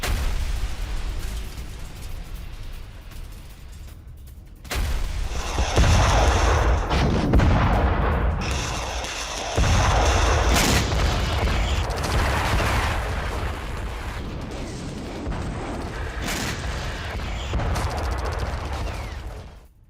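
Artillery fire and explosions in fighting between the IDF and Hezbollah make heavy booming blasts and rumbling barrages that rise and fall in loud clusters, with sharp cracks between them and no voices.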